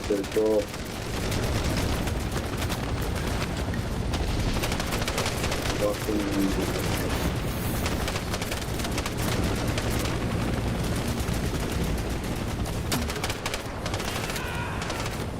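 Sustained gunfire and machine-gun bursts in a Vietnam war video game, a dense continuous barrage of loud shots with players talking over the battle.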